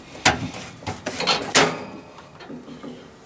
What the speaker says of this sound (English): You shut the drawer like so